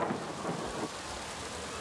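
Summer thunderstorm over the Kennywood amusement park: steady, dense rain hiss fills the air while low thunder rumbles underneath, without any voices.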